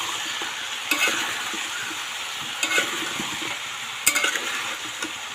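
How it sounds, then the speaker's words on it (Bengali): Onion, tomato and green chili sizzle in a pan as they are stirred, a steady close frying hiss broken by three or four sharp clinks of the spatula against the metal. "এগুলোকেও ভালো করে একটু ভেজে নেবো, নাড়িয়ে চাড়িয়ে ভেজে নেবো।"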